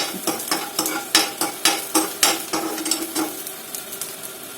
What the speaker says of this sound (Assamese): তাৰপাছতে পিঁয়াজখিনি দি দিম আৰু খুব লৰাই থাকিব লাগিব